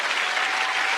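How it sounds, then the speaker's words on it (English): A studio audience at a dating show gives a dense, steady round of applause for someone speaker, the clapping continuous and loud throughout the short moment. "I'm gonna give her a clap still."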